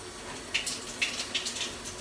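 Water is poured into a cooking pot for making oats, a soft splashing trickle with a few brighter splashes, close and fairly quiet, with no talking.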